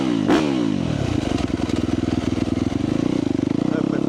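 A rebuilt 2017 Yamaha YZ250F dirt bike engine revs up close with a snappy throttle, giving a sharp blip and then a loud, raspy, pulsing drone that holds steady.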